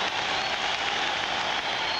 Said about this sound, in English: Boy, the crowd is into this hockey game.